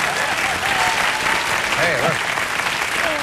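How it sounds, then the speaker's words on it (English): Studio audience applause at a television talk show, steady and full throughout, with a voice briefly calling out over the clapping. "I'm getting applause off your bit"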